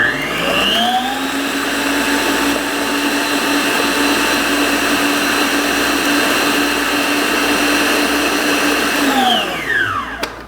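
An electric mixer beats eggs with sugar for red velvet cake batter, a loud, steady whirring drone that spins up, holds for about nine seconds and then winds down to a stop.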